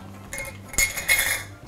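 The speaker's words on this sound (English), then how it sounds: "Just going to stir it up a little bit." A spoon stirs homemade cooked eggnog in a glass, giving a few light metallic clinks and scrapes with one sharper tap near the middle, close and fairly quiet.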